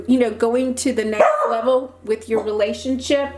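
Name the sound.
dog barking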